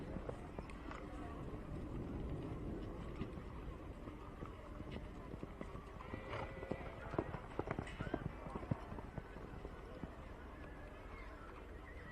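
Hooves thud and clatter as a horse named Relic is ridden around a campdraft course at the Juandah Plains maiden final, the quick, uneven hoofbeats faint and distant beneath a commentator's running talk and a low outdoor rumble.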